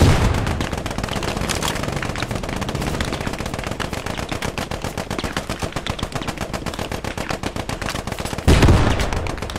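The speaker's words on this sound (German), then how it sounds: "Panzer ballert von Süden auf den Punkt." Dense, continuous gunfire from a tank and small arms in the WWII shooter game Post Scriptum, a loud rapid crackle of shots filling the whole stretch with a heavier boom near the end.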